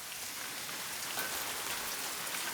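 Rain falls steadily on surfaces at an island camp in Madagascar following heavy night storms, an even, close patter of drops forming a continuous soft hiss with no voices.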